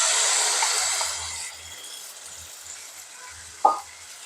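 Chicken mince frying in hot oil, a broad sizzle that is loud at first and then fades to a softer hiss, with low scraping stirs and a sharp clack near the end.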